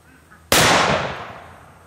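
A single black powder pistol shot, from a Remington or Colt revolver, cracks sharply and close after a brief quiet moment, followed by a booming decay that fades over more than a second.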